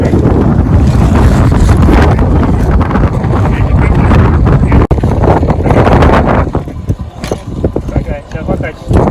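Strong outdoor wind buffets the microphone in a loud, continuous roar that eases slightly toward the end.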